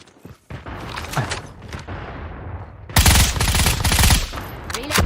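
Call of Duty Mobile gunfire crackles in short bursts, then a loud dense automatic volley erupts midway and keeps going with rapid repeated shots.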